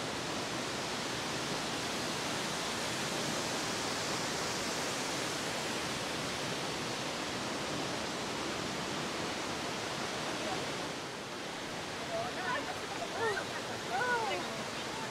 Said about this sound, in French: c'est quand même une grosse cascade et c'est vraiment facile d'accès